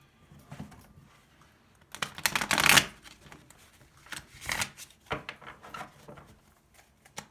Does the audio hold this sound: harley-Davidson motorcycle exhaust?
no